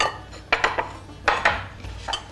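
Food ladled out of a cooking pot, with a few sharp scraping clinks of the ladle against the pot in quick, uneven succession, close and fairly loud, with no talk.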